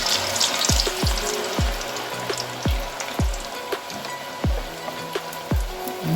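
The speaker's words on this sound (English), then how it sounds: "So gradually put in your French fries into the hot oil" French fries are lowered into hot oil, which sizzles and crackles loudly and steadily. Repeated low thumps and bubbling bursts come as the potatoes go in, and no one talks.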